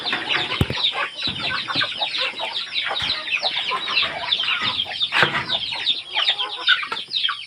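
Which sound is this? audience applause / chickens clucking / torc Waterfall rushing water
chickens clucking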